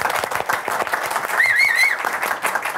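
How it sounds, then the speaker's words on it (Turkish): A live studio audience claps steadily on a Turkish talk show, sharp hand claps blending into a full burst of applause, with a brief whistle-like tone rising over it midway. "Canlı alkış nasıl hissettirdi?"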